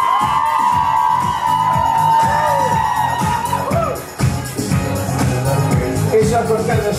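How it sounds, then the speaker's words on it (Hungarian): Wedding guests cheer, whoop and applaud together in a loud, sustained crowd roar with women's shrieks, a dense noisy wash of clapping and shouting that dips briefly near the middle before swelling again. "jöhetnek a női sikolyok, jöhet az összes taps"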